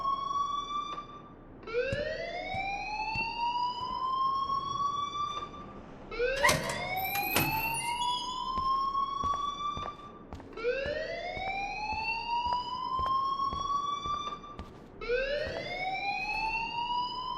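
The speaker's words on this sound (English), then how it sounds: "please turn off that alarm since that's your job." A school alarm in the Life Is Strange video game wails in loud, repeating rising sweeps, each cycle climbing in pitch and restarting about every four seconds, with no talk over it.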